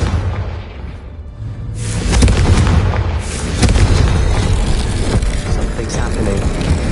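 A Confringo fire spell bursting in the video game Hogwarts Legacy: loud booming blasts and rumbling impacts, one hitting around two seconds and another near three and a half, with a voice speaking amid the din.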